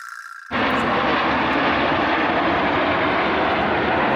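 Airplanes pass over the Monza Grand Prix circuit. A sudden, loud, broadband engine roar cuts in and holds steady as the aircraft fly overhead, drowning out the quieter crowd ambience that came before it.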